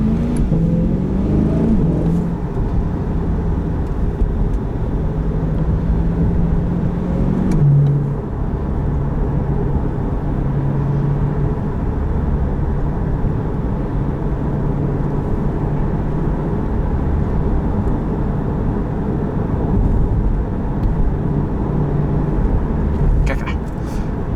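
A 2021 Chevrolet Corvette 1LT with performance exhaust pulls hard at full throttle, its engine drone rising and holding steady through the gears over constant road and wind noise, heard from inside the cabin.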